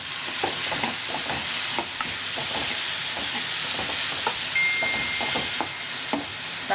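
Tomatoes and onions sauté in a hot pan for tomato rice, a steady broadband sizzle with frequent scraping stir strokes throughout, close and fairly loud with no voice.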